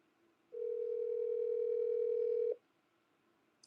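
A single steady telephone tone sounds on a phone call that fails to connect, one clean beep held for about two seconds in a quiet room, with faint background hum before and after.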